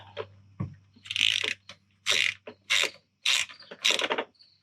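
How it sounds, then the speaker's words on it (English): A 3/8-inch torque wrench ratchets on the rear brakes of a 2011 Ford F-150 in a series of about six sharp, close clicking bursts separated by short pauses, with a low steady hum underneath. "Really gonna be busting out the super accurate torque wrench on this one."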